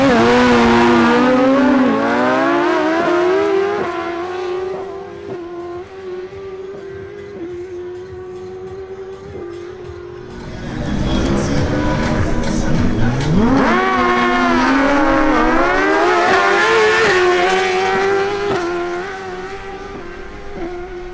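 Two Suzuki GSX-R1000 motorcycles drag racing at a Christmas Cup event, engines screaming loud and close through rising gear changes, easing off briefly before a second roaring run of climbing revs.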